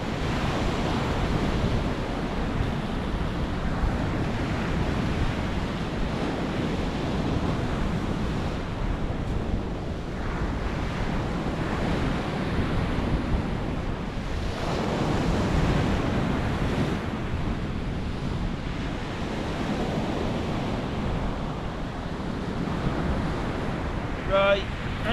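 Sea waves roll and wash steadily along the Lincolnshire coast at Chapel Six Marshes, with constant wind buffeting the microphone in a loud, unbroken roar throughout.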